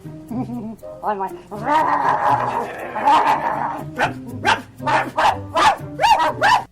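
Dogs bark and yip in short, uneven bursts close by, with a rougher, noisier stretch in the middle and quick clustered barks toward the end.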